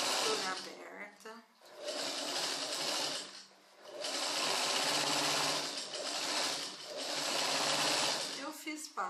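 Sewing machine stitching an open seam on a pair of pants, running in three long bursts of rapid mechanical whirring with short pauses between.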